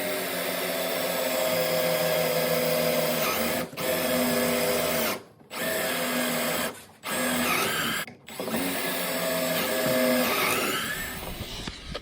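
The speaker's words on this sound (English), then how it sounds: "I'm going to be using my 3/8 inch drill bit to follow those original 2 pocket holes all the way through both boards." Power drill turning a 3/8 inch bit to bore through two boards along existing pocket holes for a homemade pocket hole jig, a loud steady whine broken by several short pauses, ending in rougher cutting noise.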